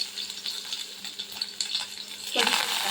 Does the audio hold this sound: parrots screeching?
no